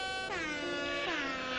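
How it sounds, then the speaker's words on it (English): An air horn sound effect blasts twice in quick succession, loud and close, each blare a brassy tone that droops slightly in pitch as it sounds alone. "I like the air horn sad violin."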